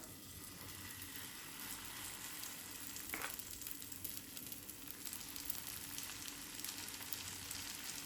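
Oats dosa batter sizzles steadily in a buttered pan, a close, continuous frying hiss with faint crackle and a brief scrape partway through, no voices.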